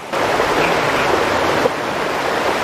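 Steady rushing water of rapids on the Sepulga River roars across the whole stretch, a dense, continuous wash of churning current with no voices.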